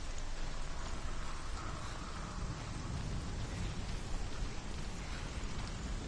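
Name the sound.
rain and wind in video game Hellblade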